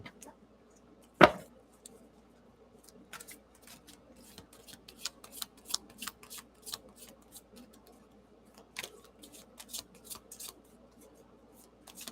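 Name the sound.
shuffling tarot cards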